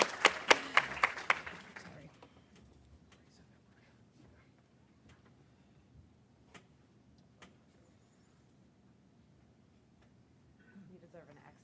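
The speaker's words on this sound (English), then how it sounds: "You deserve an extra round of applause for coping with the no slides situation." Brief applause from an audience at a firearm violence prevention health care talk. A burst of claps lasts about two seconds, then fades into quiet room noise with a few faint ticks.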